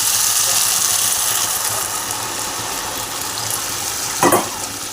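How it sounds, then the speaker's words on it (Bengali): Water is poured into a pan of fried bhetki fish head and potatoes. A steady, loud, close hiss and sizzle runs throughout, with a brief sharper burst near the end. "এবার আমি সামান্য পরিমাণে জল ঢেলে দেবো"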